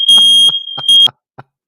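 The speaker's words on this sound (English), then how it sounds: "Smoke alarm." A smoke alarm sounds two long, shrill electronic beeps close by, followed by a few short clicks.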